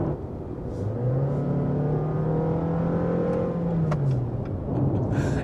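Jeep Renegade 4xe plug-in hybrid accelerating hard at full throttle in hybrid mode as its engine starts, a rising steady drone with harmonic tones that climb and hold for several seconds, heard from inside the car.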